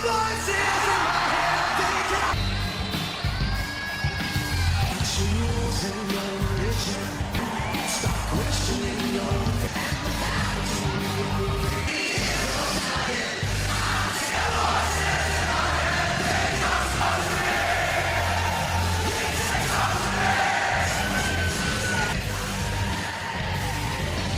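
A huge wrestling arena crowd at a Smackdown event cheers and yells continuously during entrances, a loud sustained roar with whoops rising throughout, under music and commentary.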